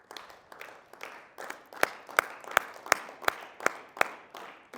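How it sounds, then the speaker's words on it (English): A roomful of people claps, starting scattered and uneven, then locking into a steady, loud synchronized rhythm of about two sharp claps per second. "I want we all to try to synchronize our clapping so that everybody claps at the same time"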